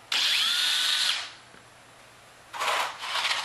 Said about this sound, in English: I'm using a very small bit to make a pilot hole.